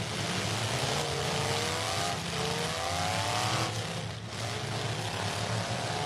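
A demolition derby car at Bristol Motor Speedway revs hard as it reverses off a dirt berm, its loud, rough engine droning continuously, with pitch rising and falling as the throttle works.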